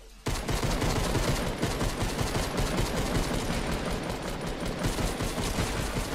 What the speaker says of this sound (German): Ich hab ein ganzes Magazin verschossen.